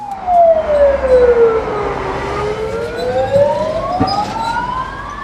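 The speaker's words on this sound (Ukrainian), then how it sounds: "звуки сирени пожежної машини не лякали" A fire engine siren wails nearby during a firefighting drill at a residential high-rise, its pitch sliding down and then climbing back up in one long continuous sweep, with no voices.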